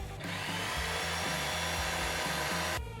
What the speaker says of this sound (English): We sketch out the area that needs to be removed from the MDF and use a jigsaw for this intricate cut.